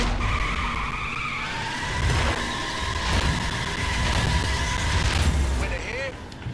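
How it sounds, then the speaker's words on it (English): Tires skid and squeal on a drag race car in the racing game The Crew, a long wavering screech over engine roar, with game speech running beneath it throughout. "It's a drag race."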